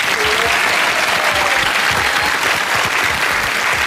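A studio audience on a Wheel of Fortune television game show applauds, with loud, dense clapping that holds steady throughout.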